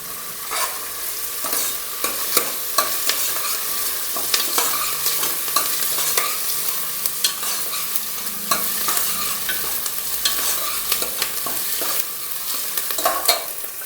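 Onions fry with ginger-garlic paste and chopped green chillies for rajma pulao, a loud steady sizzle broken by frequent sharp scrapes and taps of a spoon stirring the pan, with no voices.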